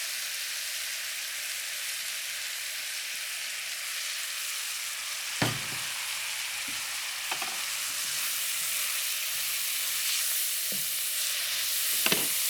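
Beef and bean sprouts stir-fry in sesame oil and cooking sherry, giving a continuous dense hiss of frying with occasional faint clicks and taps of a utensil against the pan, with no talking.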